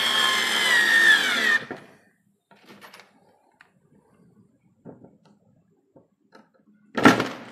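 A Daewoo 3.6V lithium cordless screwdriver whirs steadily while driving a 1.5-inch screw, then stops; scattered handling clicks follow before a second short, loud burst of the motor near the end.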